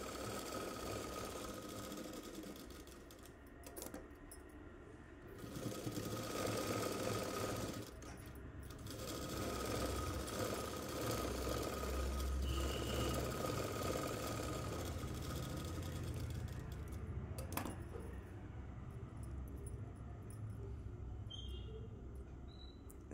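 A sewing machine stitches fabric for an umbrella dress. Its motor hums steadily and fairly quietly for the whole stretch, with slight shifts in speed and no talking over it.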